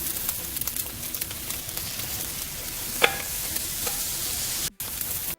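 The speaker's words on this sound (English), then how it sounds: "the sound of a juicy steak sizzling on a hot grill, flames crackling, creating the signature barbecue sound" AI-generated steady crackling sizzle of steak on a hot grill, continuous and fairly close, with a brief sharp pop partway through before it cuts off.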